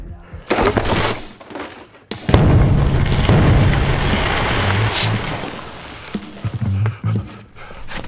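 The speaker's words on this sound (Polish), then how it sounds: "Petardy!" A rapid string of loud firecracker bangs crackling and popping close by, followed by scattered sharper blasts.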